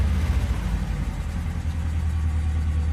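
A 1967 Ford Zephyr Mark IV V4 running, its engine held at raised revs with a deep, steady low rumble and throb, close and continuous with no talk.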